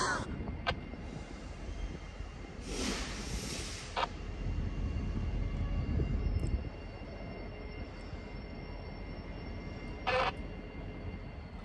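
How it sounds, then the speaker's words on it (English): A train rumbles past at a distance, a steady low roar swelling for several seconds and then fading, with a few brief higher noises over it. "It's a train."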